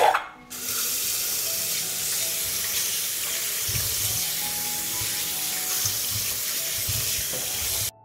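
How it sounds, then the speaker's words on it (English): Tap water runs steadily into a sink as fresh plums are washed, a continuous broadband gush with faint splashes and shifting patter, close and fairly loud, stopping abruptly at the end. "I'll wash them first."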